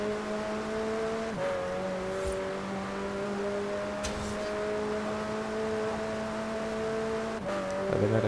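A car in the Forza Horizon 4 racing game accelerates in seventh gear, its engine drone rising steadily with a brief dip near the start and another shift-like change near the end, loud and alone.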